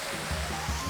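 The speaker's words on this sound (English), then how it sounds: "you're looking out and over and down on a waterfall" A waterfall seen from the Falls Edge Glass Walkway gives a steady, full rushing roar, continuous and fairly loud throughout, with no talking.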